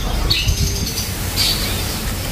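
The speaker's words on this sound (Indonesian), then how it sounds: "banyak burung-burung antik di sini" Caged songbirds at a bird-market kiosk give two short, bright chirping squawks about a second apart over a steady low rumble of market background noise.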